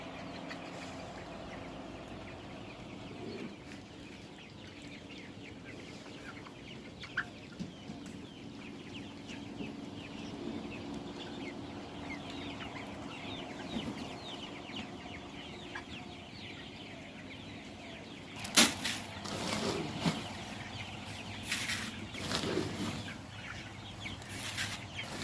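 Chickens on a poultry farm give a steady, continuous background of overlapping clucks and chatter at moderate loudness, with a brief louder burst of activity partway through.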